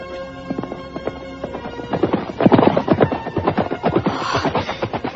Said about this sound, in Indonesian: aku mendengar derap seekor kuda